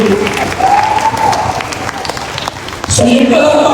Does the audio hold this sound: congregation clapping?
yes